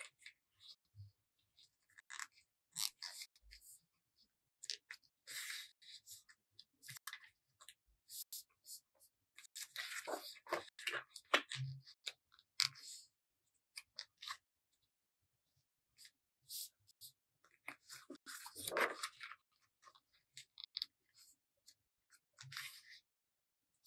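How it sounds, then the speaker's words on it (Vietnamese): Stiff cardboard paper being folded into fan pleats, with scattered crisp creases, crinkles and taps coming in irregular clusters, soft and close, under occasional speech. "Mình sẽ gấp như vậy cho đến hết cái phần giấy"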